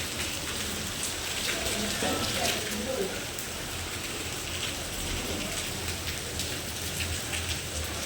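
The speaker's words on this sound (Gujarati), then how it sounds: "વરસાદ ચાલુ થઈ ગયો વિસનગર" Rain falls in Visnagar with a steady, dense patter on surfaces that carries on evenly throughout, close and moderately loud.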